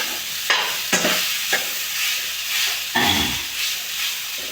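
A spoon stirring and breaking up a half-mixed batter in a bowl, with a few distinct scraping, clattering strokes spaced out over a steady soft background hiss, close and moderately loud with no talk.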